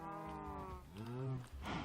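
Cattle in Minecraft let out two drawn-out moos, one after the other, close by and clear with nothing else around them.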